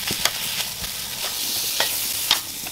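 Chiles, garlic and tomatoes roasting in a pan give a steady soft sizzle, broken by a few sharp clicks and taps as pieces are moved, close-up with no voices.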